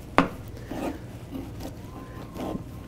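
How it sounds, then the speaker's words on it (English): A knife chops fresh basil on a cutting board in a home kitchen, one sharp opening strike followed by a few softer, irregular cuts, close and fairly quiet. "This is just chopping basil."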